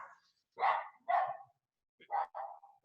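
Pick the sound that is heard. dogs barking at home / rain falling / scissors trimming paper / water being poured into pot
dogs barking at home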